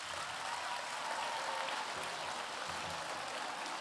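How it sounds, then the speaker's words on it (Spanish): Audience applauding the jury at a narrative literature awards ceremony of the Fundación Ramón Rubial, a steady wash of clapping filling the hall for the whole stretch, even and sustained without pause. "voy a pedir un fuerte aplauso para ellos también"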